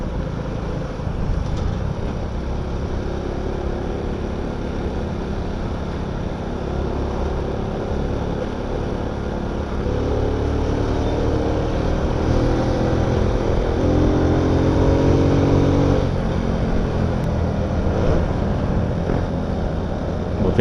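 A Honda Wave motorcycle carrying a heavy load strains uphill on a road in Olongapo City, its engine droning loud and steady and rising in pitch as it labors, with wind rush and no talking.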